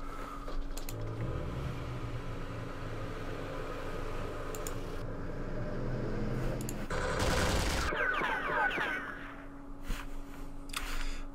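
Gunfire aimed at a Loach helicopter in the Campaign Series Vietnam war game comes as a short, sharp burst of shots over a steady hum. A few faint clicks are scattered before and after the burst.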